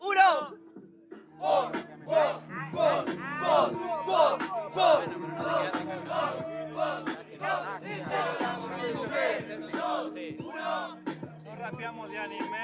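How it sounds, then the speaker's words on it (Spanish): A rap battle crowd cheers and shouts for three competitors, with a dense, loud mass of voices whooping and calling out in waves that continue steadily throughout. "un aplauso para los tres competidores"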